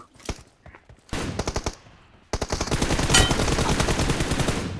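Automatic gunfire in the PUBG video game while rushing an enemy: a few quick shots, then a stuttering burst, then a long sustained rapid-fire volley, loud and close.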